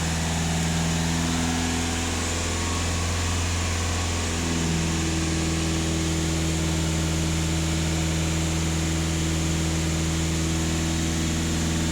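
A Skoda Kodiaq 2.0 TDI diesel with a particulate filter fault is revved to a held 2,500 rpm. Its loud, steady engine drone steps up in pitch partway through and then holds constant, with no talking.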